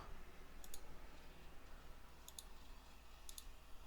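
Three sharp, quiet mouse clicks spaced about a second apart while working in XFLR5 airfoil software, standing out against a steady low background hum.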